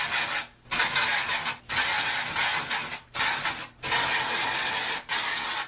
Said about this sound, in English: Now some dry shampoo.